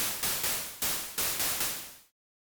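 Broadband white noise from the Ableton Analog synthesizer plays in five quick rhythmic bursts, each decaying slightly, then cuts off abruptly into silence.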